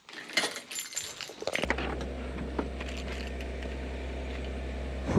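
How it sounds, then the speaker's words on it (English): Car keys for a 2017 Audi SQ5 picked up and jangled, a cluster of bright metallic clinks up close, giving way to a steady low engine hum that continues to the end. "I guess I should grab the keys to this thing"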